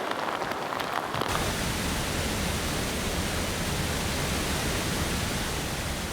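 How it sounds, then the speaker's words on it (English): Heavy monsoon rain pouring near Dudhsagar Falls in India, a dense, steady, loud hiss that starts after a brief quieter patch and then roars on without break. "It's pouring rain right now, so I figure I'm wet enough"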